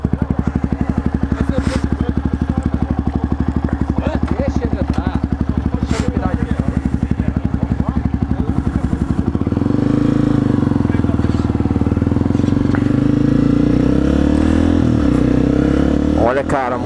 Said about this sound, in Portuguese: minha primeira moto off-road de verdade